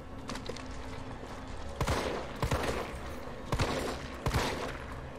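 Shotgun fire in Resident Evil 3 Remake, four loud sharp blasts spaced a second or so apart over a steady game background hum, with no one speaking.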